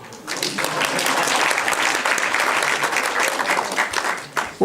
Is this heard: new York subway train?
no